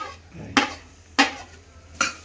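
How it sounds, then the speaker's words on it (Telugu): Cheese being stirred into a dish: three sharp spoon-against-pan knocks spaced about half a second apart over a faint quiet background. "చీజ్ వేసి కలుపుకొని మీకు ఇష్టం ఎక్కువ ఉంటే వేసుకోండి"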